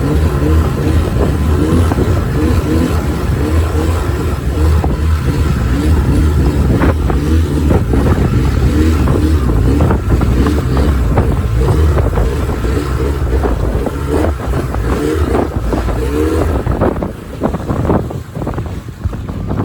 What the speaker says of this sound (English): you're about to hear the result of a dinghy motor that just doesn't seem to want to work properly